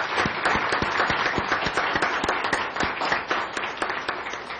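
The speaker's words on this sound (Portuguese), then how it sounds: "pedir a esse plenário que possamos aplaudi-los pelo tempo dedicado a" Applause from the plenary of a special committee session, many hands clapping in a dense, even patter with distinct sharp claps standing out, continuing steadily throughout.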